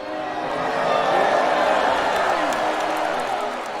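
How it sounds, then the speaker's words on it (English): A big crowd in the arena stalls of Sir Brante breaks into sustained applause and cheering, a dense steady roar of clapping and voices that swells slightly and holds for several seconds. "The stalls explode with applause, celebrating your courage."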